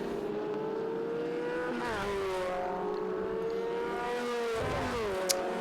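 Several historic Formula Ford race car engines whine and rev together in a close pack at Winton, pitches rising and falling as they shift gears, with a brief sharp click near the end.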